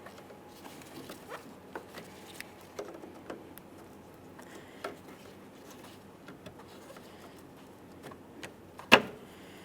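A plastic trim tool prying push clips off a panel around the fog light of a 2013-2020 Ford Fusion gives faint, scattered scraping ticks and clicks, then one sharp snap near the end.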